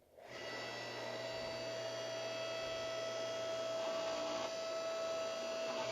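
Electric log splitter motor switching on and running with a steady, even electric hum and whine, close by and alone.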